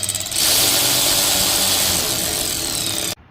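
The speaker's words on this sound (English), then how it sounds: "Now just tighten up your T20 screws." Power tool driving T20 screws into blank-off plates on a BMW M57 diesel engine in an X5 35d, one continuous close, loud whirring burst lasting about three seconds before cutting off.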